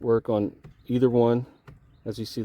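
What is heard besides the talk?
None of the usual background noises is heard.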